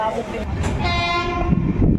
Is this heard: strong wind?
no